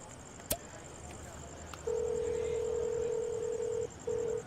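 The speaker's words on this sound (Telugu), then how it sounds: "చెయ్యి ఫోన్ చేయి" A phone being dialed: a sharp click and faint keypad beeps, then a steady electronic tone holds for about two seconds, breaks off briefly and resumes.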